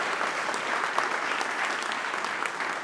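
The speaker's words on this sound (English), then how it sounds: "give Tom Donnelly a round of applause" A political fundraiser crowd applauds steadily, a continuous dense wash of clapping that stays loud and even throughout.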